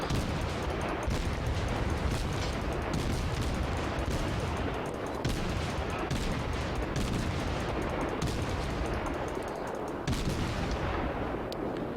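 Naval gunfire from the Kolberg cruiser in World of Warships, a dense, continuous barrage of booming shots and impacts rolling through the whole stretch with no pauses, loud and close.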